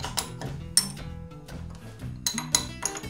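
A wrench working on a motorcycle front fork cap during a fork oil change, with several sharp metallic clinks and taps spaced irregularly, close and clear.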